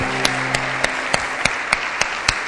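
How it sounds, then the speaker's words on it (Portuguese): Church congregation claps in a steady, even rhythm during a worship service, sharp evenly spaced claps roughly three per second over a continuous hiss of crowd noise. "dê um aplauso, glorifique a Deus."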